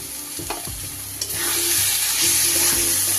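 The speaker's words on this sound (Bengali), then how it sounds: "আর কিছুক্ষণ আমি মশলাটা কষাবো।" Spiced masala and potatoes fry in oil for Bengali matar paneer ghugni, with a steady close sizzle and repeated scraping stirs of a spoon against the pan, the frying growing louder partway through.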